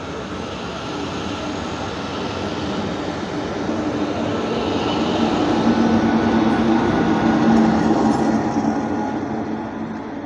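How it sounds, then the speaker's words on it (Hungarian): A Hungarian passenger train with a control car, one BHV carriage and an electric locomotive pulls into a station, a loud continuous rumble and rattle of wheels that builds and stays heavy throughout, with no speech. "Elő lesz a vezérlő, aztán jön az egy darab BHV kocsi, hátul pedig egy papagáj szili lesz."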